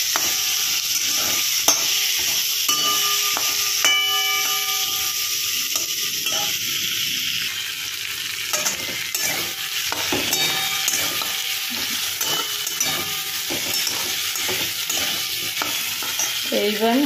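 Potato and pointed gourd pieces fry in a pan while being stirred, giving a continuous loud sizzle with occasional clinks and scrapes of a utensil against the pan.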